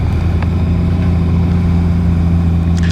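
Honda Goldwing touring motorcycle, 50th Anniversary 2025 model, idling steadily after starting, a smooth, even low hum held close and constant, with a faint click near the end.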